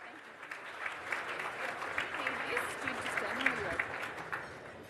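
Audience applause at an awards ceremony welcoming a speaker to the stage: steady crowd clapping, moderately distant and soft, with a voice speaking faintly underneath.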